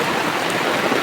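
Runoff from heavy rain pours down a slope beside a home in Tanahun, Nepal, giving a close, steady wash of splashing, flowing water with no break.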